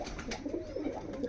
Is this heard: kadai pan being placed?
no